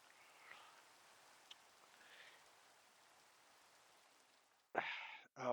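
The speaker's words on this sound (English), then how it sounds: "I don't like rain." Steady rain patters through a modded Minecraft world, a faint soft hiss with a few scattered drop ticks, then it abruptly gives way to a couple of louder, brighter bursts near the end.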